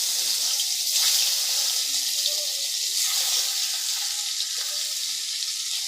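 Katla fish pieces sizzle steadily in hot mustard oil in a home kitchen pan, a loud continuous frying hiss that carries on alone without talk.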